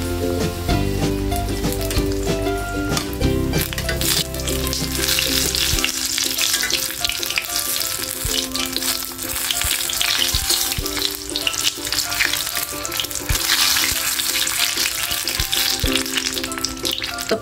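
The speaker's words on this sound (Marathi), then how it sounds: "आता हे मी तेलामध्ये सोडते।" Stuffed brinjal pakoda fries in moderately deep hot oil over a medium flame, giving a loud, dense, continuous crackling sizzle throughout.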